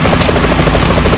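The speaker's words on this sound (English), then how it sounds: "Is that a chopper I just heard?" Helicopter rotor chopping loud and close in the PS2 stealth game Metal Gear Solid 2: Sons of Liberty, a steady rapid whump of blades droning without pause over a busy engine hum.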